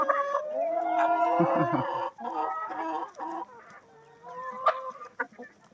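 Chickens cluck and call outdoors after rain while let out to graze on green grass, with several birds close by in overlapping clucks and occasional sharper squawks.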